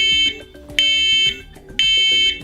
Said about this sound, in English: When an alarm is triggered, you'll hear a loud spread spectrum horn tone to alert you.